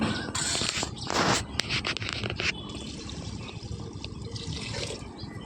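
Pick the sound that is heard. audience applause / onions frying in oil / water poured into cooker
water poured into cooker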